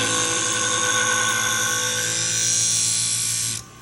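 A Twice As Sharp sharpener grinds a pair of Kobalt utility scissors with a loud, steady, high motor whine that runs without pause and then cuts off abruptly near the end.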